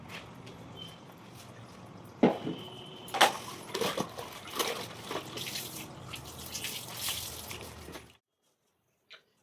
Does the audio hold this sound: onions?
no